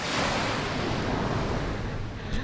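Sea waves wash onto a beach in a continuous, loud, broadband rush, mixed with wind buffeting the microphone.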